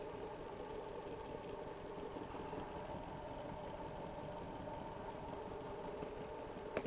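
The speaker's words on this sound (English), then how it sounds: "This is a generator running at 330 revs" A steady, continuous mechanical hum from a three-phase permanent magnet generator running at 330 rpm, with a droning engine-like tone, holding even throughout, with a couple of faint clicks near the end.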